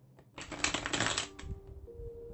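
Tarot cards shuffled by hand in a burst of crisp riffling and flapping, loud and close for about a second, then settling into softer handling with no voices.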